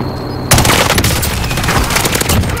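Rapid bursts of automatic gunfire from a Warzone match, starting abruptly after a brief quieter lead-in and continuing densely throughout, loud and close with overlapping shots.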